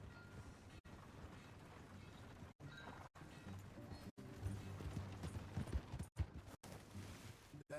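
Steady clip-clop of horse hooves trotting in the video game Red Dead Redemption 2, mid-distance, with clanks and mechanical rattles mixed in, in short bursts separated by brief silences.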